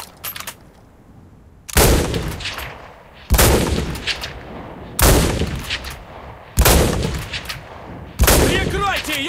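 Mosin Nagant M1891/30 bolt-action rifle fire in the WWII shooter game Enlisted: five loud, close single shots spaced about one and a half seconds apart, each with a booming decay, and a faint voice between them.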